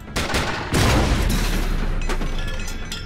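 Rockets fired in the turn-based game SteamWorld Heist, heard as booming bursts with rumbling blasts and crackling impacts about a second in, followed by quieter trailing explosions.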